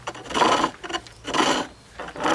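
Rough, raspy scraping of a flat chisel smoothing wood in three bursts, with a slight chattering judder from taking too much off, close by and without speech.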